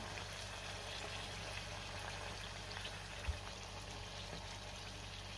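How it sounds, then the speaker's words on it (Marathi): Bajra (pearl millet) puris deep-frying in hot oil give a steady, soft, even bubbling hiss that continues without a break, with one brief tap near the middle. "ही सुद्धा पुरी तळून झाली।"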